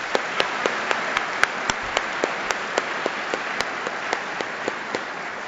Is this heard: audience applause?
yes